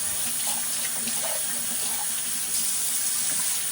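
Tap water runs steadily into a laundry room sink, a continuous close hiss and splash that holds level throughout with no talking.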